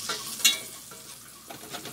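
Flour sizzles in hot pork grease in a pan, a close, steady frying hiss with a sharper crackle near the start and light stirring scrapes.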